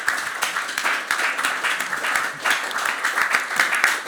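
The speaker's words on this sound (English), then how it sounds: "Please give our panellists a round of applause." Audience applause at a conference panel session, a steady dense patter of many hands clapping at moderate loudness throughout, with no one speaking over it.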